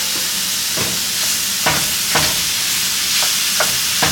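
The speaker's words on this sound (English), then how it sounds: "we're getting ready to drop this hamburger meat down over in here. Let it cook with it" Hamburger meat cooks with vegetables in a pan for Oklahoma-style Frito chili pie, giving a loud, continuous sizzle with several brief stirring scrapes, and no voices.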